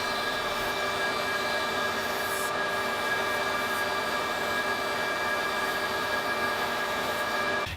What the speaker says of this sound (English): and I'll finalize the shape by sanding it to the line on my template.